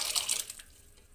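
Cooked cowpeas and their water poured into a curry pot of simmering aubergine gravy, a short splashy gush of liquid that tapers off within a second.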